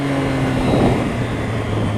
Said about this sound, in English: Listen to the engine. Oh, it sounds good.